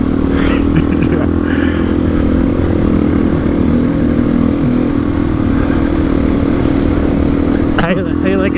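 A carbureted Honda XR400 dirt bike engine drones steadily while riding, a constant loud rumble with wind noise, as riders talk over it.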